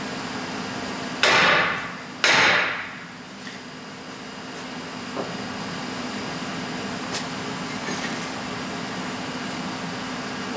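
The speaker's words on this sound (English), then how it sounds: "with an 8-pound short handle sledge, to pop them off rather easy and rather quickly" Two heavy metallic blows from an 8-pound short-handle sledgehammer striking a frozen brake rotor, loud and close, about a second apart, followed by fainter clinks and a steady background hum.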